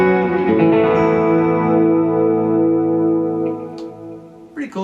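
An electric guitar played through a Fractal plex shift multi-delay effect with the reverb removed: sustained chords ring out with shimmering pitch-shifted repeats that trail off, and a few softer notes are picked near the end.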